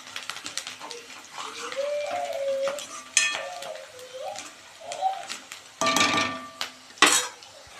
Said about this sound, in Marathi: टमाटर पेस्ट ॲड करून घेतलेला आहे, तो पण आपण मिक्स करून घेऊ।